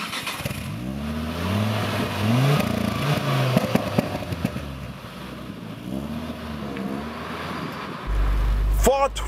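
Ford Focus RS500 engine running close by, a steady rumble with rising and falling rev sweeps under continuous talk, then a louder low-pitched burst near the end.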